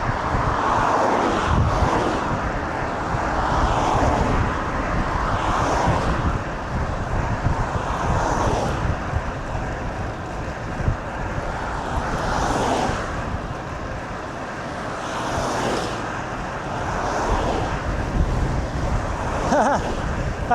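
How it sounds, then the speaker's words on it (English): Strong wind roaring past on a long endurance road bike ride, loud and continuous with surging gusts that swell and fade every few seconds. "That wind."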